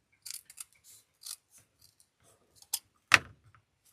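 Scissors snip ribbon for an Easter wreath in a series of small, close, quiet cuts, ending with one sharper, louder snip near the end.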